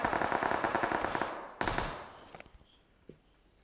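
Rapid automatic gunfire in the battle-royale game PUBG, a loud sustained burst of shots followed by a second burst, then tapering off into scattered quieter pops and fading echoes.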